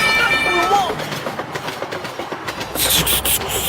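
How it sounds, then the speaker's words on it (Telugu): An animated train rolls past with a steady rumble and rhythmic clatter, a brief high horn-like tone near the start and a brighter burst of noise toward the end, with no talking. "వస్తుంది రైలు మీద ఎక్కిపోద్ది ఇప్పుడు"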